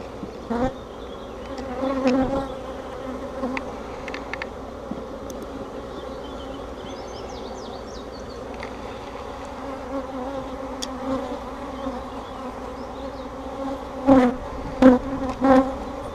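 Honey bees hum steadily around an open beehive during a hive inspection. The buzzing is close and continuous, with several louder passes as individual bees fly near the microphone, and no voices.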